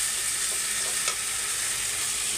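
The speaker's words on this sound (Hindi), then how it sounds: "अब इसमें डाल देंगे छोले पीसे हुए थे, उनको भी साथ में भून लेंगे" Ground chickpeas being sautéed with fried masala in a pan for chole, giving a steady close sizzle with faint stirring scrapes and no talk.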